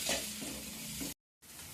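Tomato pieces simmering in a pan on low heat for a black-eyed bean stew give a soft, even sizzle and bubbling hiss, close by, cut off briefly by a moment of silence before resuming.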